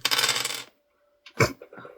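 Plain six-sided dice tumble and clatter loudly for about half a second, then a brief pause before a second smaller rattle of dice settling on a hard surface.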